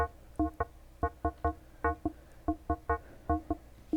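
Soft synthesized percussion hits built from an FM sine wave in Phase Plant, short pitched plucky knocks in an irregular rhythmic pattern, about fifteen hits over a few seconds, quiet and dry with no talking.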